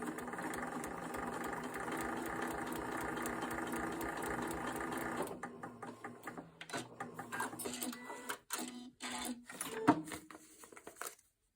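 A sewing machine runs continuously at first for foundation paper piecing, then stitches slowly in short, stop-start bursts with quiet gaps, close and moderately soft.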